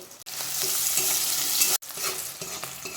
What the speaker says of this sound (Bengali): এখন দিয়ে দেবো পেঁয়াজ কুচি, কাঁচা লঙ্কা কুচি।